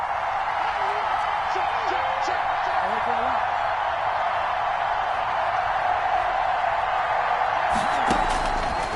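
Home-field stadium crowd in a football video game on PS4, a steady wash of roaring noise that runs throughout beneath a commentator's voice, swelling briefly near the end.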